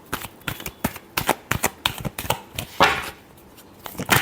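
A tarot deck being shuffled by hand, a quick irregular run of crisp card slaps and riffles with a longer rustling sweep near the end, close and fairly loud.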